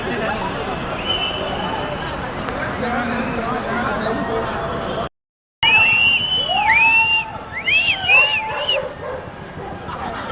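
A dog barking and yipping amid a New Year fireworks crowd at Toronto Harbour, sharp repeated barks standing out over cheering and shouting, loud and close, with people talking around it.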